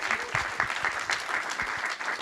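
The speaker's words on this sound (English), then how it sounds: "So give him a big applause, Hugo van Dijk." Sustained audience applause at an international startup pitch event in Harlem, steady dense clapping filling the whole stretch at moderate loudness, with faint voices beneath.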